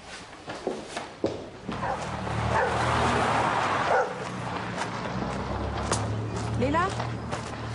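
A dog yips and whimpers over footsteps and room noise indoors, with soft barks here and there and people talking.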